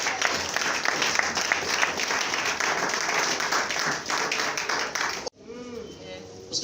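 A church congregation breaks into loud, sustained clapping and cheering for about five seconds before it cuts off abruptly, leaving a quieter room.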